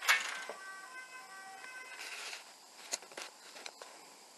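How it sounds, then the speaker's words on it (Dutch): Ambulance siren wailing faintly in the distance, a thin rising and falling tone heard early in a quiet indoor room, followed by small handling noises. "Oh, ambulance."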